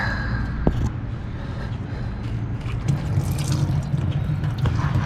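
Coolant drips and trickles from the drain cock at the bottom of a car radiator on a 4.0 engine with a blown head gasket, a close steady liquid patter with light clinks and no talking.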